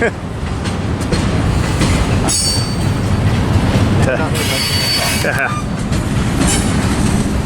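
A BNSF freight train being shoved by GEVO and ACe locomotives rolls past at Fullerton, loud and close, with continuous wheel rumble, rhythmic clatter and bursts of high metallic wheel squeal.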